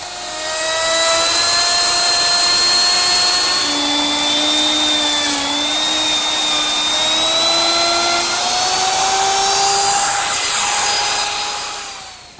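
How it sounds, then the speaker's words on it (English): A router fitted with a laminate trimming bit cuts laminate on an oak bathroom vanity, a loud, steady high-pitched whine that runs without a break, its pitch wavering slightly as the bit moves along the edge. "I use my router with a laminate trimming bit"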